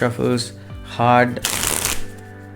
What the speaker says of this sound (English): I take it through a process of shuffling, hard shuffles,